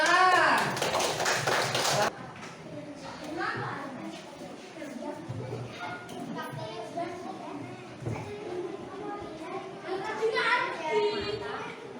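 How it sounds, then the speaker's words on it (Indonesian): A group of classmates claps together during a team word-and-gesture game in a classroom, a loud dense burst lasting about two seconds before fading into chatter and children's voices. "Tepuk tangan."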